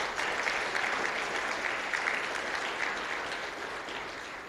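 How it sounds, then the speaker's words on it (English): A conference audience applauds steadily, dense clapping holding at an even level throughout before easing slightly near the end. "So a round of applause to them"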